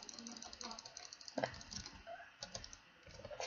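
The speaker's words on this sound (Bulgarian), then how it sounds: "Да, спам на мишката." Rapid computer mouse clicking while playing a PvP game, a fast rattling stream of close clicks under a steady game-sound bed, with a speaker's voice breaking in briefly.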